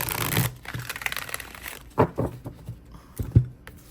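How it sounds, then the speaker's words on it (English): Oracle and rune cards are shuffled by hand, making soft papery rustles and several sharper riffling snaps at irregular intervals, close to the microphone. "Let's give it one more shuffle."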